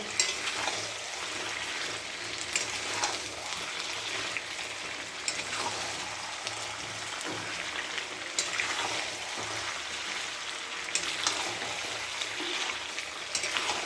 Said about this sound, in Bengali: ভালো করে কষে নিই, পর যত কষা হবে তত রান্নাটা ভালো হবে